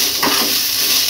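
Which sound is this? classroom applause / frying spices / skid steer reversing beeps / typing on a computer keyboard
frying spices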